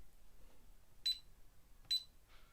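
An alarm system gives two short, bright electronic beeps about a second apart as a door entry is triggered, clear against a quiet room.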